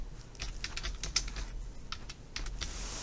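Rapid clicking keystrokes on a computer keyboard in uneven bursts, close by, with a brief pause midway and no voices, as a search query is typed.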